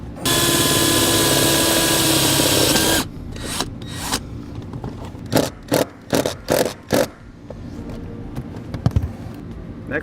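A power drill whines steadily for about three seconds while drilling a pilot hole on a 2007 GMC Sierra, then stops; several short bursts of drilling and scraping follow, close by.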